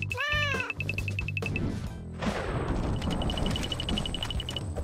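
Kitten meowing in a short run of high, wavering mews near the start, followed by clanking, ringing and rumbling noises, close and loud, with no talk.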